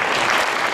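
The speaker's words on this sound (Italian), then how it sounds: "Un bel applauso." A brief, dense burst of crowd applause at a live promotional show, loud and steady for under a second.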